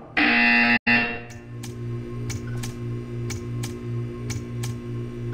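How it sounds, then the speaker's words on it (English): A loud, harsh electronic buzzer in Portal 2 blares for under a second, then cuts out, followed by a low steady hum with sharp ticks at regular intervals. "You will hear a buzzer."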